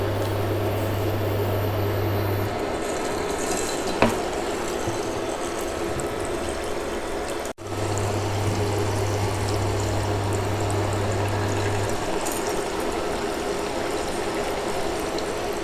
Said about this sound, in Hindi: तेल गरम हो चुका है, अब इसमें हम डालेंगे पनीर के पीसेस।